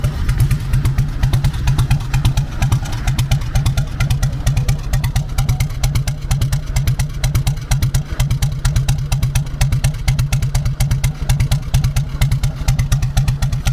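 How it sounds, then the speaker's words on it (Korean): A carbureted Harley-Davidson Fat Boy idles up close with a loud, steady, loping beat like galloping hooves, each pulse evenly spaced and unbroken throughout. "아 이게 말발굽 소리네요 할리에."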